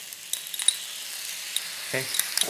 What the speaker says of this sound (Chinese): 大火炒一炒了，我们就下这个黄梨的那个酱那个渣